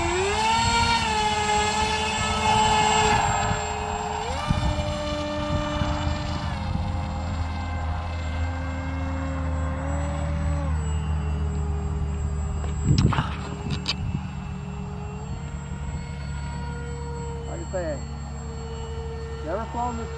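A Hobby King AXN Floater Jet RC plane on its first flight, its electric motor giving a sustained whine that rises and falls in pitch as the plane passes, with some brief wind bumps.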